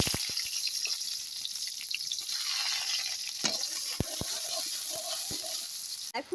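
Onions hit hot oil with a dried chili and sizzle steadily, punctuated by sharp spoon clicks and stirring knocks against the pan.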